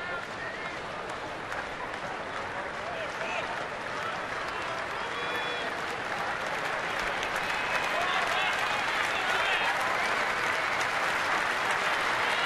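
A baseball stadium crowd cheers and applauds in a steady, dense roar during a major league game, with a broadcast commentator talking over it and the noise swelling slightly toward the end.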